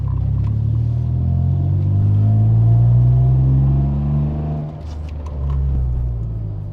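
Loud, deep droning exhaust of a Toyota Aygo fitted with a cheap aftermarket exhaust, the engine revving up and holding, dipping briefly, then rising again with a rumbling, throaty tone.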